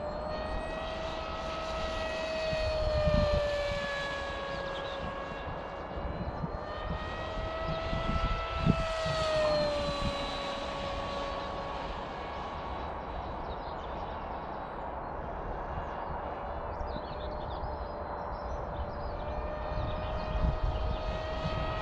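A Sipa 200 model airplane flying at half throttle in wind gives a steady buzzing engine drone overhead whose pitch rises and falls as it passes and turns, with wind rumble underneath.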